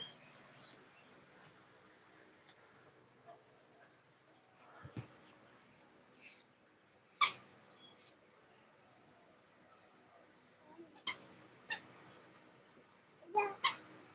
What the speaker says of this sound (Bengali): বিড়াল বিড়াল কিছু করবে না